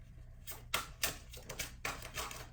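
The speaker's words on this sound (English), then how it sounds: "I'm going to shuffle a few more times." Tarot cards are shuffled close up in a quiet room, making a run of quick papery riffles and taps in uneven bursts.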